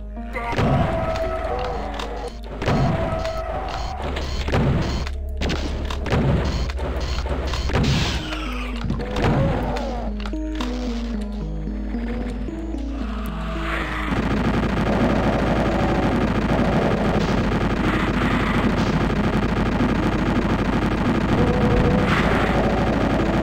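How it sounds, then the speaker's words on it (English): Doom level gunfire, rapid rounds of sharp shots and thuds in fast bursts, loud and close, then a steadier, denser roar of fire and explosions over the game's droning music. "Who is shooting me?"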